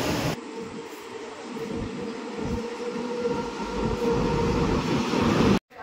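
Chengalpattu–Kacheguda Express passenger train with ICF coaches and a WAP-4 locomotive, a loud steady rumble of rolling coaches with rhythmic wheel clatter close by, cutting off abruptly at the end.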